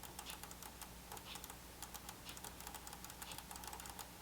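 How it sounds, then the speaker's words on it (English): Clicky arcade buttons on an Astro City Mini console are pressed in quick, irregular bursts of sharp, close taps, a fast rattling patter without any voices. "Let's see how the buttons are. Oh, that's very clicky."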